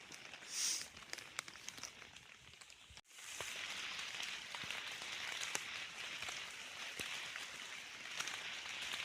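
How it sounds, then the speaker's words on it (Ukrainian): Rain falling in an autumn forest, a steady close hiss of drops pattering on leaves that suddenly grows heavier partway through, with scattered louder drips and no talk. "Дощ посилюється"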